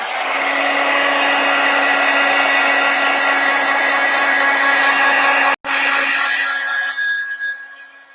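A hair dryer blows steadily on wet mixed-media craft paint, a loud close whooshing roar with a faint whine that cuts out briefly, resumes, then winds down at the end.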